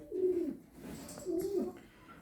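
Two soft, low pigeon coos, one after another with a short pause between, fairly close and calm against a quiet background.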